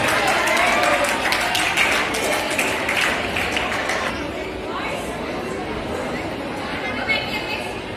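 An audience at a school Ramzan and iftar party celebration claps in a dense burst that gradually thins out, with lots of chatter and voices mixed throughout.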